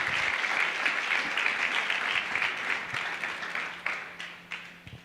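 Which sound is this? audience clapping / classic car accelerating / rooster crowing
audience clapping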